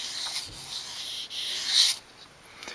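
A knife is drawn across sandpaper during sharpening, making several soft rasping strokes close up, with one louder, longer stroke near the end.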